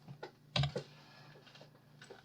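Computer keyboard shortcut keys pressed while working in SketchUp, a handful of quiet, close clicks in an uneven sequence with no talk.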